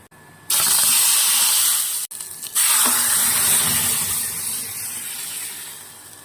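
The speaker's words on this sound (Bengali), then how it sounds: "দিয়ে দিলাম শুকনো লঙ্কা, জিরে, আর দিয়ে দিলাম তেজপাতা" Dry chillies, cumin and bay leaf hitting hot oil for a lentil dal with papaya, bursting into a loud spitting sizzle that briefly cuts out, resumes strongly and then gradually settles lower.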